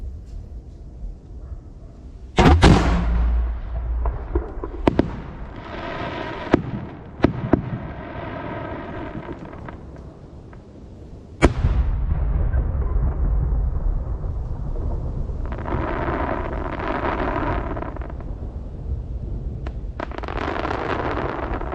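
Japanese fireworks shells launched at a festival display in Yamanashi, sharp loud bursts at irregular intervals followed by rolling rumbles and crackling trails, with several heavy booms echoing over steady background noise.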